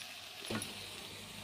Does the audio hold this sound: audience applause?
no